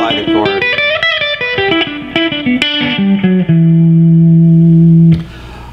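An electric guitar played over a song, a run of picked single notes and chord tones with effects and reverb, ending on a long sustained note that rings loudly before cutting off.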